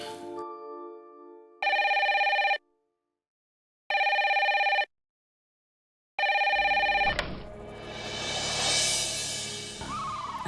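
A telephone rings in three evenly spaced bursts of a bright electronic bell tone with silent gaps between, followed by a rising clatter of other noise.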